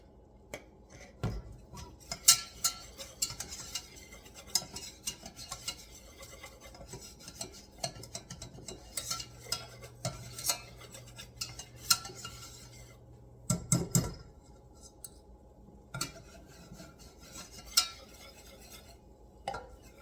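A roux being stirred in a pan for gravy, with a utensil scraping and rasping against the pan in irregular strokes and occasional sharper knocks, close up with no talking.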